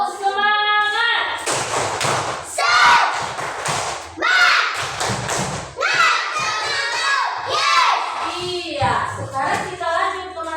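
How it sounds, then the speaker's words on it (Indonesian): A classroom of children performs a spirit clap, with loud, energetic chanted voices over rhythmic bursts of clapping and thumps that continue without pause through the whole stretch. "Kita tepuk semangat."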